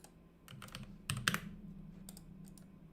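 Quick bursts of computer keyboard typing during an app-building session, a few clustered keystroke runs with a louder flurry in the middle, close and clear with no talking.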